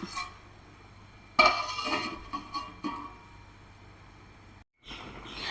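A metal lid clinks down onto a pot of simmering sardine curry, one sharp clatter followed by a brief rattle as it settles, with quiet kitchen background around it.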